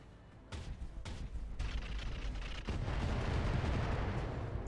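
Battle mechs firing all their weapons at once in Roguetech, a loud rolling barrage of overlapping blasts and booms that thickens and grows heavier toward the end, with no talking.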